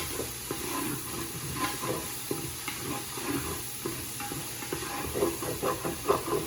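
Onions frying in a pan give off a steady, close sizzling hiss, with soft scraping and stirring knocks rising toward the end.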